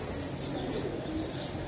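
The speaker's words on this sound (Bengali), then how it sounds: "এই যে একটা কবুতর আমি দেখাই আপনাদেরকে" Faint pigeons coo softly and continuously among a group of giribaj pigeons for sale, low murmuring calls under steady background hiss with no talk.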